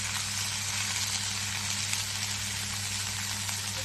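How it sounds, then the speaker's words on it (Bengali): Ridge gourd and aubergine frying in a pan with onions, a steady broadband sizzle that holds even and close throughout, with a low hum running underneath and no talking. "এখন আমি ঝিঙাটাকেও ভাজা ভাজা করব।"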